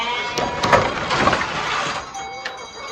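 Sheep on a farm bleat several times amid a busy background of rustling and knocking, with a few sharp clicks, the calls moderately close and overlapping.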